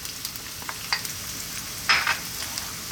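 Chopped onion and garlic fry in olive oil in a pan, a soft, even sizzle with light ticks of stirring and one brief brighter hiss partway through.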